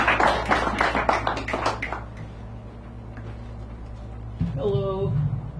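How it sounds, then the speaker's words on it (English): A small café crowd at an open mic poetry night claps for a poet in a short burst that dies away after a couple of seconds, followed by quiet room tone and a voice speaking. "Give her a round of applause, please."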